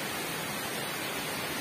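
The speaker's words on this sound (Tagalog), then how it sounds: "It's raining." Rain falls heavily and steadily as a dense, constant hiss with no pauses and no voices.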